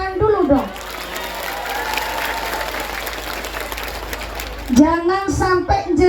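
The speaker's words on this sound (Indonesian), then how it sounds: "Tepuk tangan dulu dong." A large outdoor crowd of villagers applauds steadily for several seconds at a religious gathering, a broad wash of clapping between a woman's speech at the start and end.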